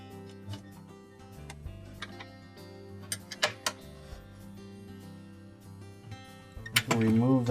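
A wrench works a half-inch motor bolt on a Maytag washer, making a series of sharp metallic ticks and ratcheting clicks at an irregular pace, with a voice speaking near the end.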